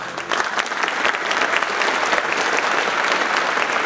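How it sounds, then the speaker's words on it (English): An audience at a pageant thanks its sponsors with sustained applause, a dense and even wash of many hands clapping that carries on steadily with no talk over it. "Let's give them a round of applause to show our thanks."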